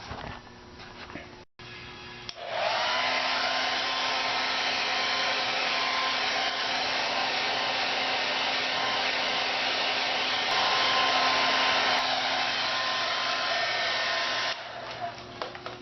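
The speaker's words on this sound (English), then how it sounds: "And we're going to be using our hairdryer to facilitate it." A hair dryer heats the plastic leg trim on a Vespa GT200 scooter, starting with a click into a loud, steady blowing roar held close by for over ten seconds before cutting off.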